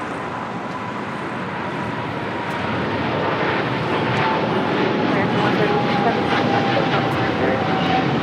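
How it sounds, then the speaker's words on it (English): An American Airlines Boeing 777-300ER, flight 136 to London Heathrow, takes off at LAX with a powerful jet roar that swells louder midway and holds strong, with a voice talking over it. "This is American Airlines 136 taking off to London Heathrow on a 777-300ER."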